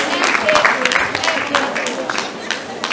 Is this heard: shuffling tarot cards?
no